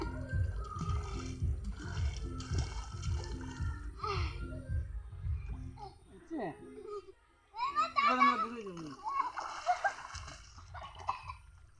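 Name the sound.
child swimming and splashing in water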